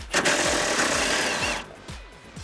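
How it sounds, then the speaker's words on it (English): Impact gun with a 10 mm swivel socket rattling off bumper bolts on a 2013-2018 RAM 1500, a loud sustained hammering burst lasting about a second and a half, then tapering off into a few short pulses. "There's just enough room for me to get my impact gun in though, and that's what we're gonna do here."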